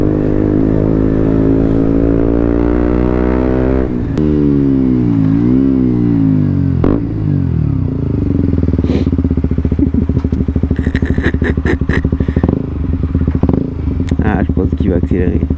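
A 125cc motorcycle engine runs loudly and steadily up close, rising and falling in pitch as the rider accelerates and shifts, with some rattling clatter in the later part and a rider talking over it.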